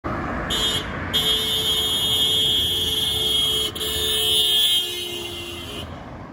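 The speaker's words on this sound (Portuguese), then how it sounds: "conforme o carro foi se afastando da gente, o som da buzina ficou cada vez mais grave" A car horn sounds in long sustained tones with brief gaps, its pitch dropping slightly toward the end as the car passes and moves away, showing the Doppler effect.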